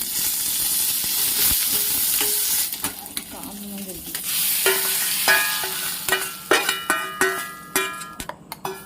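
Mustard seeds, urad dal and curry leaves sizzle and crackle in hot groundnut oil for a tomato chutney tempering, a steady close frying hiss with sharp popping bursts growing more frequent toward the end.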